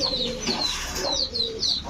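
Pigeons at a breeder's loft coo in soft, repeated throaty phrases, with several birds overlapping close by and no talking.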